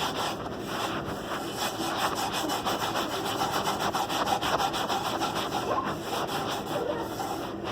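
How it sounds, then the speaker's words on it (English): A cast iron skillet scrubbed with salt and water, a continuous close gritty rasping with quick back-and-forth strokes and no pauses. "And I do scrub the edges of the pan, because that'll clean off any little bits of debris. And we're just going to take and scrub."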